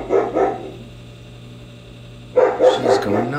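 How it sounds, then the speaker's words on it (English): German Shepherd barking in two short bursts, a pair of barks at the start and another cluster after a brief pause, close and loud with a low hum underneath. "Yeah, this Bella, I don't know what she's barking at"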